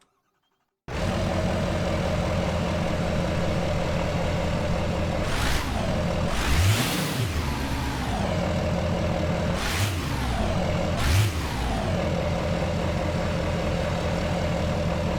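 A 2011 Chevy Duramax diesel truck engine in the BeamNG Drive game starts abruptly and idles loud and steady, with a few brief revs and hissing surges along the way.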